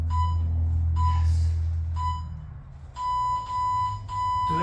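Workout timer beeping in a garage, a series of bright tonal beeps in short bursts followed by a longer sustained tone, over a low steady hum.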